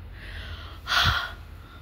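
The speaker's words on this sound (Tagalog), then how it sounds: "Sobrang hingal ko." Someone is out of breath after climbing stairs to the third floor of a building with a broken elevator, letting out one short, heavy exhale, close and fairly loud, between quiet breaths.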